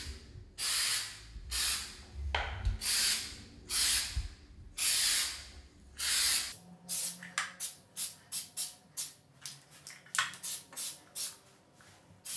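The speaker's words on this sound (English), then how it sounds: "I'm just gonna spray some primer on it" Primer hisses from an aerosol spray can in a string of bursts, long sustained sprays first and then quicker short puffs, close and clear with no talk, during interior DIY wall painting.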